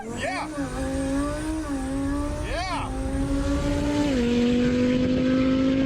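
A car launched from a giant slingshot, heard from inside as a steady engine drone with rising and falling pitch sweeps, loud and close throughout, with people talking over it.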